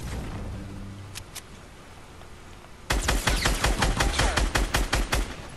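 Gunfire in Fortnite: a couple of isolated distant shots at first, then a sudden loud burst of rapid automatic fire with sharp repeated cracks that keep going to the end.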